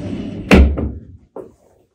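Dual sliding glass doors on the back of a 3 ft refrigerated bakery display case are run shut. One loud, close thud is followed by a lighter knock, then quiet.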